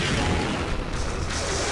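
Rocket launcher fire in a video game against orange crystals, a loud sustained roar of blast and rumble with a sharper burst near the end, continuous throughout.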